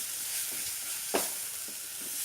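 Masala with green chillies frying and being stirred in a pan for Punjabi chole, a faint steady sizzle with one brief, louder stirring scrape partway through.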